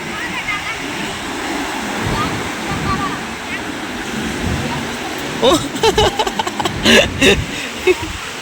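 Sea waves wash in steadily at Koduru beach near Nellore, a broad surf rush with wind buffeting the microphone; people talk over it, and brief splashes or handling knocks cluster near the end.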